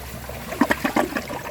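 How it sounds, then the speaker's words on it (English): A 2015 Kohler Cimarron one-piece toilet flushing a washcloth, its flush valve closing almost at once, giving a short burst of trickling, gurgling water with a few splashy pulses, near and moderately loud. "Despite the flush valve closing almost immediately after it opened, it perfect passed it."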